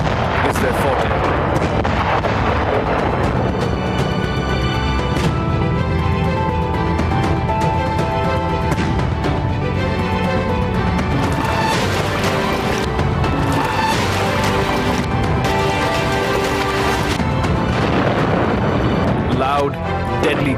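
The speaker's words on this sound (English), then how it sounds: "Loud, deadly guns." Indian Army artillery guns fire with heavy, rolling booms inside a loud, dense, continuous mix, while a voice speaks over the barrage throughout.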